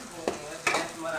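Onions for tomato fry sizzle over a full flame while a spoon scrapes the pan in two quick strokes, close and lively, with no speech.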